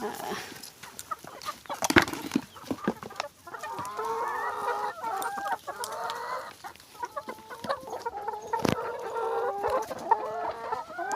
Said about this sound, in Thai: เดี๋ยวเรามาให้ไก่กันค่ะ